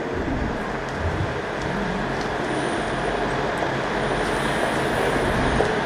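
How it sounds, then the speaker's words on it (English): A train pulls into a platform at Clapham Junction, a steady broad rumble and rolling noise close by with no voices, building slightly toward the end. "David's train pulls in"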